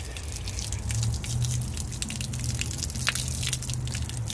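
Water runs steadily from an outdoor hose bib tap, a constant splashing rush with scattered drips and spatters, close and fairly loud.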